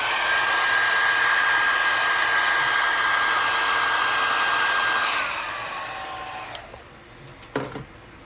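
A hair dryer dries glue for a lace front wig, running loud and steady close by, then powering down with a falling whine before a few faint clicks.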